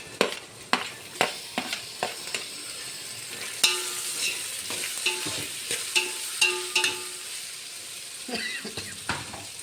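Tomatoes drop into a pot of pulao and fry in a loud, busy sizzle, with repeated sharp spoon clanks against the pot throughout.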